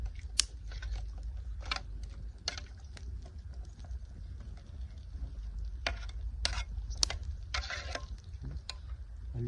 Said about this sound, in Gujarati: હવે હલાવી નાખી ચમચીથી